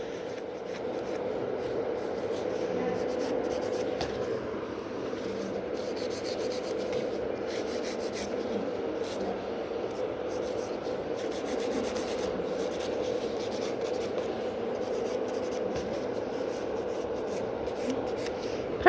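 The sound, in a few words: nail file filing gel nails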